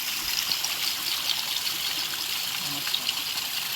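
Water overflowing from a full tank rushes and splashes continuously, a steady broadband gush that holds at an even level throughout.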